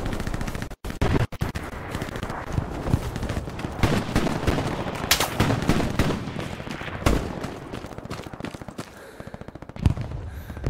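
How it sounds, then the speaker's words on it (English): Dense gunfire from a Hell Let Loose battle on the Western Approach map, with rapid machine-gun bursts and scattered single shots crackling nonstop. Loud sharp reports keep stacking over one another throughout. "Now I get to get shot at again."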